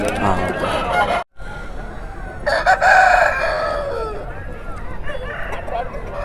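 A native Kaki Nemali country rooster at a busy rural poultry market gives a single crow midway, rising over the noisy crowd chatter and talk around it.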